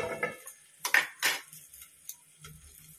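A lid is set over a frying pan of stuffing for stuffed capsicum, giving a few light metallic taps and clinks, close and fairly quiet, with faint kitchen clatter between them.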